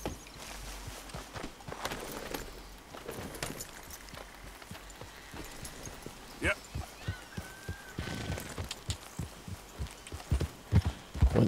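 Horse hooves clip-clopping in Red Dead Redemption 2, a quiet, uneven patter of steps that grows into a steadier, louder gait toward the end, with game ambience beneath.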